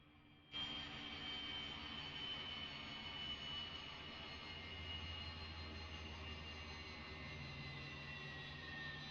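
A Cessna Grand Caravan turboprop in X-Plane 12 sits on the ground after landing, its engine whine and hum steady and fairly faint, with a high tone slowly gliding downward as the engine winds down.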